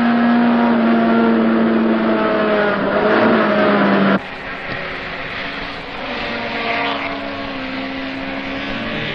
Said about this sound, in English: Being able to listen to the car all the way around the track and hear John shifts precisely at each point, at each corner